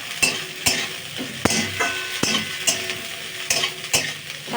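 Cabbage for chow mein is stir-fried in a hot pan: loud sizzling under repeated sharp spatula scrapes and knocks that come in a regular rhythm, close to the ear.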